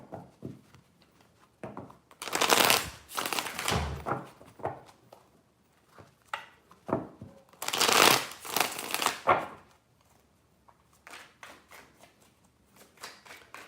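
Tarot cards shuffled by hand in three distinct bursts of crisp riffling and slapping, close and dry, separated by quieter handling and a few soft taps, with no talking.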